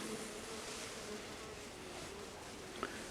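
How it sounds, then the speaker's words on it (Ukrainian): Steady, dense buzzing of many honeybees inside an opened hive, continuous and close, with a brief faint tap near the end. "От стільки бджоли тут"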